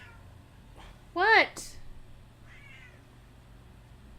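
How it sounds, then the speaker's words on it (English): A cat gives a short, loud meow in the middle of a quiet room, and a person speaks briefly nearby. "You stupid cat."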